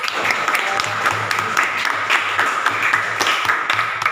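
Students in a classroom applauding together, a continuous burst of close, lively clapping with a faint rhythmic pattern running underneath.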